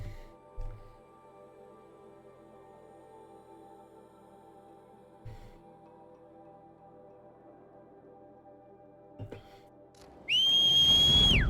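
A loud, sharp whistle rises in pitch at the end to call a mount in the game Horizon Zero Dawn, coming after a long stretch of low, steady ambient hum with a few soft thumps.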